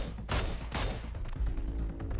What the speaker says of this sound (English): Lufa hearing the sniper shots whizzing by him